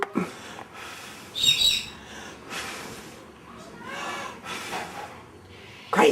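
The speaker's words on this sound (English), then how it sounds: "Where's that crazy bird?" A pet bird gives a few short, bright chirps in a quiet indoor room, scattered between pauses. Someone talks to it softly at times.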